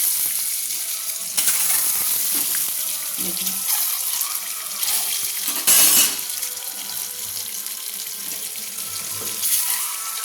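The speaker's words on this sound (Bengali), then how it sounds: "ডিমটা কড়াইতে দিয়ে দিলাম, দিয়ে আমি ডিমটা ভেজে নেব।" An egg frying in a wok for egg kosha crackles with a steady, close sizzle resembling running water, with brief louder bursts and a short spoken word over it.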